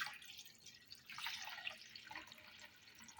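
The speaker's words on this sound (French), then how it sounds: "j'ajoute 20 centilitres d'eau." Water, 20 centilitres, poured into grated ginger, a soft steady trickle and splash heard close and quiet with no talking.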